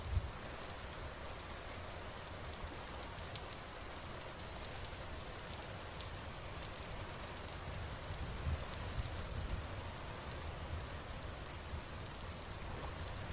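Steady rain falls in the video game Vintage Story, a continuous broad hiss of drops on surfaces with a low rumbling undertone, even and unbroken throughout with no talking.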